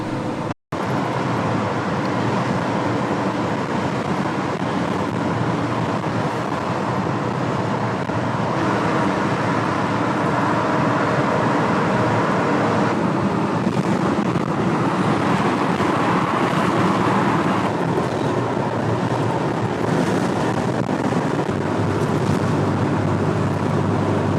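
A 60-year-old Volvo cruises along a freeway outside Marseille, its cabin filled with a continuous, loud engine and road rumble that holds steady throughout with no talking.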